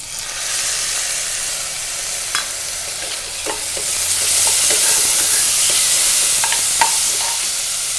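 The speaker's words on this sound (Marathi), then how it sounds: "आता त्याच्यात टॅमॅटो प्युरी केली ती आपण ती टाकूया" Tomato puree tipped into a pan of sizzling onions fried until reddish, for dal khichdi, raising a steady broadband sizzle with scattered spoon scrapes and stirring clicks, growing louder partway through; no talking.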